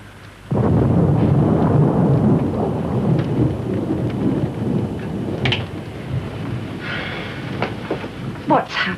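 Steady heavy rain pours throughout with rumbling thunder underneath, starting abruptly and staying loud, with a few brighter cracks and splashes near the end; no one speaks.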